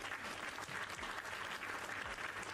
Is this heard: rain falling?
no